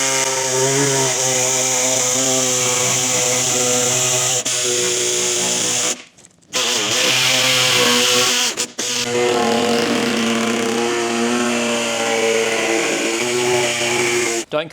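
Power saw cutting a hole in a stainless-steel 4WD snorkel's metal guard: a loud, continuous high-pitched whine that stops briefly near the middle, then resumes and runs steadily to the end, alone.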